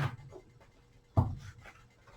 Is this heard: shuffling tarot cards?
yes